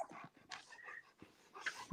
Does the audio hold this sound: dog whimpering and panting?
yes